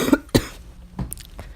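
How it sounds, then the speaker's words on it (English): A man coughs in a short cluster of close bursts: two hard coughs in quick succession, then a couple of softer throat-clearing hacks, loud against a quiet room. "And that's my second cough."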